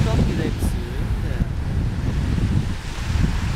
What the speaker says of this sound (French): les vagues sont plus fortes que d'habitude